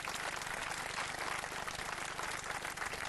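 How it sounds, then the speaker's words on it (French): An audience at a French rallycross championship final applauds driver Laurent, a dense continuous wash of clapping held at a steady, fairly distant level. "Bravo Laurent, on l'applaudit très très très fort."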